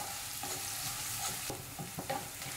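Onions and curry leaves sautéed in a pan for a kurma give a steady close sizzle, broken by several distinct stirring scrapes and clacks of a spoon against the pan, with no talk.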